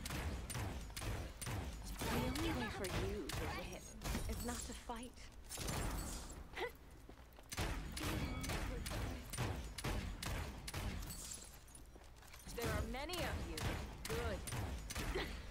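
Rapid prism-gun shots from the champion Lian in the video game Paladins fire in a dense, continuous volley, loud and steady with game effects throughout.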